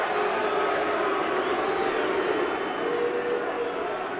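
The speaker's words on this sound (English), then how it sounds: "The booing is being directed at Barry Robson." A football crowd at a Scottish Masters Cup match with Aberdeen boos a player, a steady broad wash of many voices filling the stadium, a commentator talking over it throughout.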